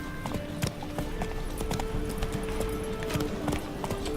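Rhythmic clip-clop of a horse's hooves galloping in the Witcher 3 video game, steady and fairly close, with a brief whinny and faint game ambience behind.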